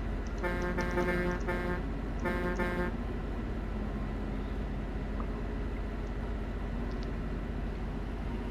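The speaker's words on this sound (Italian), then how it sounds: "questa è la canzone che si fa a tempo con il clacson" A car horn sounds in short rhythmic honks, two pairs of blasts timed to a song, over a steady low engine and road rumble, then only the rumble continues.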